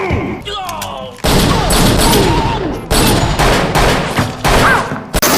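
Loud, dense bursts of gunfire tear through a film action scene, rapid volleys and shots in clusters separated by brief lulls, with a faint voice briefly underneath.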